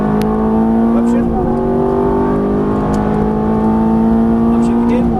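A Ferrari F430 engine revs hard on a track, a loud steady howl near at hand that drops in pitch at an upshift then climbs again, with an instructor's voice talking over it.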